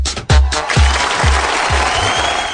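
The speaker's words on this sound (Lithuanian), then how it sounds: "Plojimai dar kartelį." Studio audience applauding on a radio show with a strongman guest, steady loud clapping sustained throughout with rhythmic low thumps underneath.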